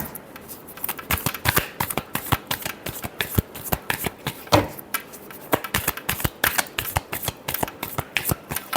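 Tarot cards riffled and shuffled by hand, a steady close flutter of rapid card snaps that continues throughout.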